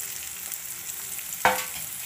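Capsicum pieces fry with onions in hot oil, giving a steady close sizzle broken by a single sharp clack of a utensil about midway.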